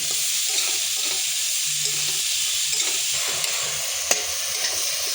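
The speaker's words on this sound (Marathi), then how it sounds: "आता हे वाटण आपण छान परतून घेऊ." Continuous loud sizzle of a ground masala paste frying in oil until the oil separates, with a spatula stirring and scraping against the pan throughout.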